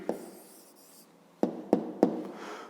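Pen writing an answer by hand on paper while solving a fifth-grade maths exercise: faint scratchy strokes, then three short, sharp taps or strokes close together near the end, no voice.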